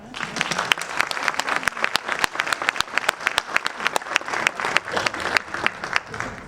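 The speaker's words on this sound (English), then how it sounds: "Give him one more round of applause" Audience applause at an economic summit in Kansas City: crisp, distinct handclaps from a modest crowd, rhythmic and fairly close, continuing steadily without talk.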